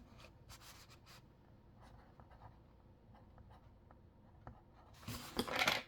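A pen scratches out short strokes on paper coin collection labels, quiet and close with brief pauses between letters, ending in a louder burst of rubbing and handling.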